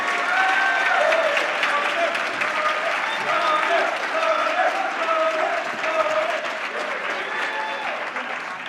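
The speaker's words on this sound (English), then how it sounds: "warm round of applause for Alex" A large debate audience claps warmly in a sustained wave, with faint voices and a whoop or two rising above the steady clapping as the debater is welcomed to the stage.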